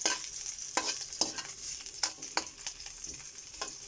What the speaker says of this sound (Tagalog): Ayan na, lagyan na natin si sibuyas.